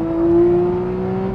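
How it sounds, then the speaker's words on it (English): A Porsche 911 GTS with a naturally aspirated engine and no turbo gives a short rising and falling rev, a steady tonal engine drone that swells briefly and then settles, close and loud, with no speech. "the best part about this motor is really the sound"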